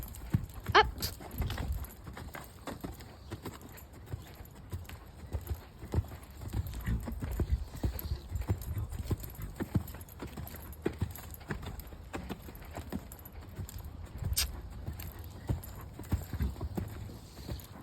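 A horse cantering while worked on side reins, with steady, rhythmic hoofbeats on the ground continuing throughout at moderate distance, plus occasional faint background noises.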